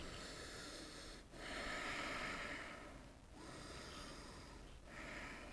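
Slow, deep breaths in a yoga practice, heard close and soft as three long airy exhales separated by short quiet gaps, with no talking.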